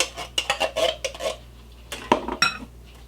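A spoon mixes pumpkin and sweetened condensed milk in a bowl, giving a quick run of clinking, scraping strokes against the dish, a short pause, then a few more taps and scrapes, close and clear with no talk.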